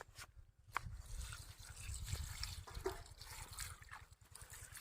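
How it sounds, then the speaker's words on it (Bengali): Coriander leaves being rinsed in water, a steady close trickle and splash with a few sharper drips and sloshes running throughout, no talking over it. "এদিকে আমরা ধনে পাতাগুলো ধুয়ে নিচ্ছি"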